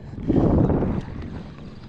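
Blustery wind at sea during deep jigging fishing rumbles against the microphone in a low, buffeting roar, strongest early then easing into a steadier gust.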